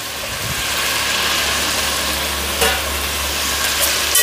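Cauliflower, tomatoes and other vegetables stirred in a hot frying pan for vegetable biryani produce a constant close sizzle over a low background hum, with a couple of brief scrapes and no voices.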